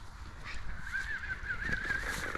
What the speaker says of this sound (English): There's a rake of seagulls out.